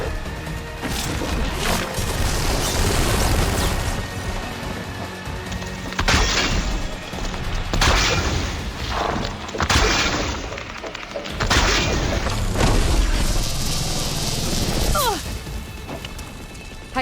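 Fire barrage explosions in Horizon Forbidden West: a run of loud, close fiery blasts and crashes in repeated bursts, with brief gaps between impacts over a steady rumbling background.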